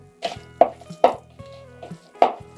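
Raw prawns are tossed with salt for Goan rissois, making a series of about five wet, squelchy stirring strokes in an uneven rhythm, close and fairly clear with quiet pauses between them.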